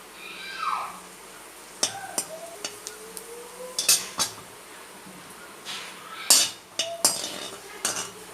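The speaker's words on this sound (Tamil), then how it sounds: "வறுத்து தனியாக ஒரு கிண்ணியில் அள்ளி வச்சுக்கலாம்." Roasted raisins scooped out of a pan into a bowl while making oil-free laddu, heard as scattered metallic scrapes and clinks of a spoon against cookware, irregular and close, with no talk.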